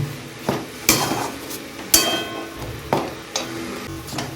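Spoon scraping and knocking against a pot while ingredients for a gati kachu (taro) dish are mixed, with sharp clinks at roughly one-second intervals over softer stirring scrapes, close and fairly loud.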